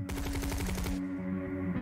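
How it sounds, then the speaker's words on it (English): A rapid burst of automatic gunfire rattles in a fast regular stream for about a second, then cuts off, leaving a low droning hum behind. "You hear rapid gunfire far away."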